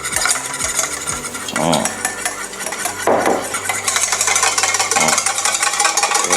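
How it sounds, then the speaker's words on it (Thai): Mustard being whisked with olive oil for a vinaigrette, a quick rapid clatter of the whisk against the bowl, close and fairly loud, continuous with a couple of brief heavier knocks. "เริ่มจากมัสตาร์ดนะครับมัสตาร์ดก่อน แล้วก็ตีกับ น้ำมันมะกอกครับ"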